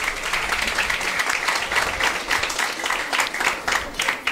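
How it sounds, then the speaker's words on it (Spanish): Sustained applause from a live comedy show audience, dense and steady clapping for about four seconds, loud and close with no pauses. "Un aplauso para eso, por favor."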